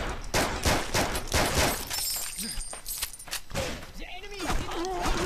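Gunfire in the video game NecroVisioN, dense bursts of rapid shots filling the first few seconds and then thinning out amid clattering game effects, loud and close, with a voice talking over the action.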